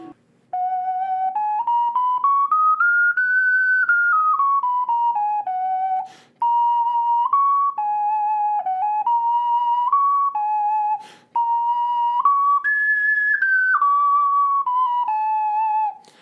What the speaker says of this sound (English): it's a very beautiful soprano G ocarina